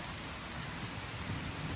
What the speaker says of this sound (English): it started raining and we're in the middle of Ololua